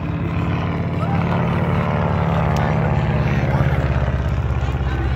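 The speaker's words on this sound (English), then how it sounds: "that is the 14th airplane built by the Waco Company trying to get the Army Air Corps contracts" A rare Waco biplane, the company's 14th built, drones overhead at an air show in Bealeton, Virginia. Its propeller engine gives a loud, steady, buzzing hum that holds throughout.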